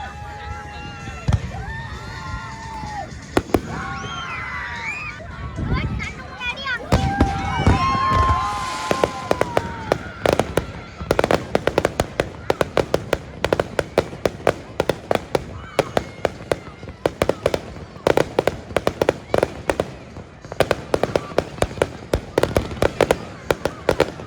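Fireworks at a US Independence Day celebration crackle and pop in dense, rapid volleys close by. Voices and whistling bursts are heard early on.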